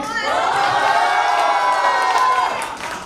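A lively crowd at a college freshers' party cheers and whoops loudly, with scattered clapping mixed into a steady roar that fades slightly at the end.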